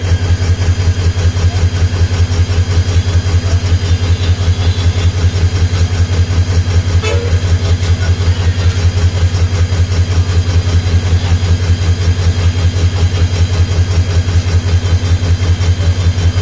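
A train stands at a crowded platform of Sreepur railway station in Bangladesh, its engine idling in a loud, steady, close diesel drone that carries on unbroken without voices.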